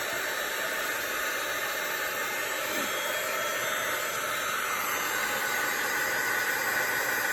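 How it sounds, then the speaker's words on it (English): A heat gun runs continuously at close range, a loud steady blowing hiss with an even airflow roar that holds without a break and no speech, used in making a card. "I'm going to go ahead and start my heat gun so that it can be heating up"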